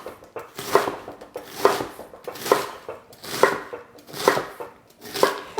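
A chef's knife slicing cabbage into a thin chiffonade on a cutting board: steady, evenly spaced chopping strokes, about one every 0.8 seconds, close and crisp with nothing else heard.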